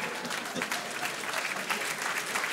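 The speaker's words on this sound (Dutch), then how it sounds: "Dat is een half applaus, deze." Steady applause from a theater audience at a comedy show, dense clapping throughout at moderate volume with no pauses.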